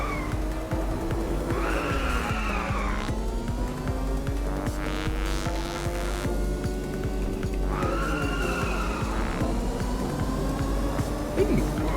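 Race car engine in the Inertial Drift racing video game, a steady drone with rising and falling pitch sweeps and bright tire-skid squeals around two and eight seconds, continuous and fairly loud with no talk.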